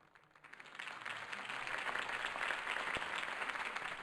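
Crowd applause for a campaign speech in a Batman video game, swelling from a soft start into steady, dense clapping that stays loud and even throughout, with no voices over it.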